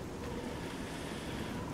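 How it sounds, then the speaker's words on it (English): Steady rain pours down in the fantasy role-playing game Oblivion, a constant broadband wash without let-up and no talking. "Everything looks so much more spooky when it's pissing and pouring rain."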